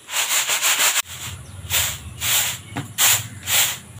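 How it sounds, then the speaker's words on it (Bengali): Raw rice shaken and winnowed on a tray for making puffed rice, a dry rushing, rubbing hiss that comes in repeated bursts, close and fairly loud with no talking. "এবার চালগুলো ঝেড়ে নেব।"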